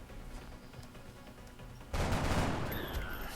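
Gunfire in the XCOM Long War mod: a sudden loud burst of rapid shots cuts in after a quiet stretch of game ambience and rolls on as a dense, crackling volley to the end.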